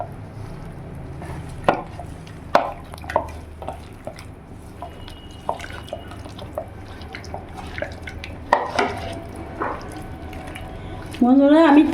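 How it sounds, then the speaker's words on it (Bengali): Chicken is worked by hand with salt, turmeric and chili powder, giving scattered wet squelches and slaps at an irregular pace, with a tap running briefly near the end. "ভালো করে আমি মাখিয়ে নেব"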